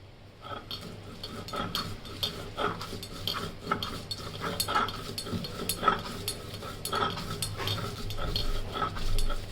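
Koi fish being mashed with green chilies by hand, likely on a traditional grinding stone, for a Bangladeshi bhorta, giving steady scraping, rubbing strokes that repeat close-up with no talking.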